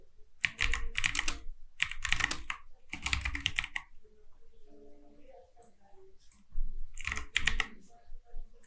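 Quick bursts of typing on a computer keyboard while writing code in a coding IDE, clustered clacking keystrokes in short runs with brief pauses, close and fairly quiet, with faint murmuring in a gap.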